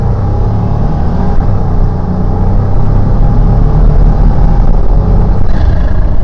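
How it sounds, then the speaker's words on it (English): A 1991 GMC Syclone pickup makes a hard boost launch, its engine rumbling loud and close in a steady, full roar as it accelerates, with no talk over it. "Hard on the brake, let some boost build"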